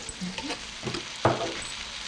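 Spices and ginger hit a hot frying pan, giving a quiet crackling sizzle with a few soft stirring scrapes and one sharper hiss partway through, heard alone without talk.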